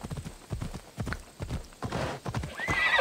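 Hooves of a horse clop in a steady galloping rhythm in the Assassin's Creed Odyssey video game, moderately loud and close, ending with a brief rising neigh, with no talk over it.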